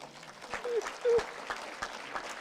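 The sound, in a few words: audience applause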